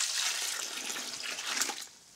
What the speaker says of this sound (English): and then you just add water.